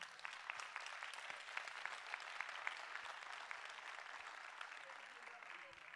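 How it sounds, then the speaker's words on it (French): Applause from an audience at a French eldercare trade-association congress, steady dense clapping filling the hall for the whole stretch at moderate distance, no talk over it. "Et je vais même vous demander pour lui des applaudissements."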